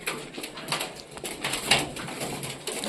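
Madras pigeons in a loft give soft, close coos among rustling wing and feather movements and light scuffing, over a short stretch.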